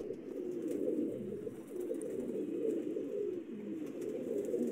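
A pigeon coos repeatedly in low, throaty murmurs, close by and fairly steady, with no speech.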